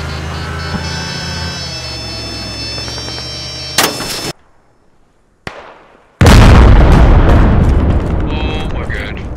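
An IED detonates beneath a tank with a heavy, sudden boom after a brief near-silence, and a loud rumbling roar trails away afterward. Before the blast, a steady mechanical hum and tones play.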